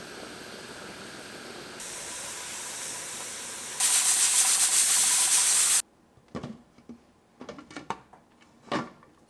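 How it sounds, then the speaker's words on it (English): A pressure cooker on a gas stove lets out a steady, loud steam hiss that grows stronger and then cuts off abruptly, followed by scattered clicks and knocks. "I got the lid on the pressure cooker and it is time to turn on the gas"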